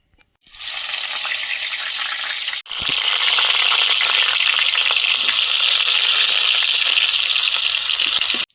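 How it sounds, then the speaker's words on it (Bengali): Potatoes drop into hot oil in a wok on a stove, setting off a loud hiss that briefly cuts out and then returns stronger, sizzling steadily and close. "উনুনে কড়াই বসিয়ে দেবো আলু ভাজতে দিয়ে"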